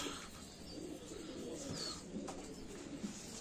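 Soft low cooing from a Teddy breed pigeon, a young bird, murmuring steadily in a coop with a constant background hiss and faint chirps from other birds.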